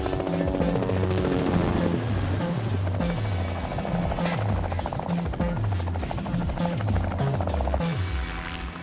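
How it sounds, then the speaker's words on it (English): A helicopter carrying a polar bear for release, its rotor thudding steadily, loud and close, with a continuous engine drone throughout and no voices. "Once the helicopter is in the vicinity where Brutus is to be released"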